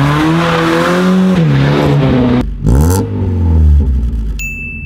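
A Mazda Miata's engine revs loudly and close by, with rising and falling pitch sweeps and a sharp break partway through as it climbs again, with no talking.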